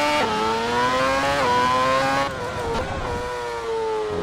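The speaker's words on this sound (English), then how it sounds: "I think we listen to this car and embrace the sound of it for a second." A Formula 1 car screams through the streets of Monaco in a racing video game, its high engine note rising through the gears with sharp shifts, then dropping and revving again as the car brakes and accelerates, loud and close with no talk.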